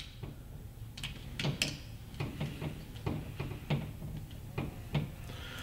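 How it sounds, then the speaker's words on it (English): Small screws on a Vickings tactical flashlight/laser mount are tightened onto a Picatinny rail, giving a close series of irregular metallic clicks and ratchety turns, faint and without voices. "Tighten the two screws."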